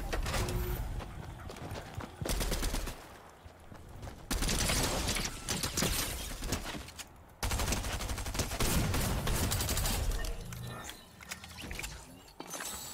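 Shotgun fire in Fortnite: loud, dense blasts of gunfire come in several long bursts separated by brief lulls, close and harsh, with no talking.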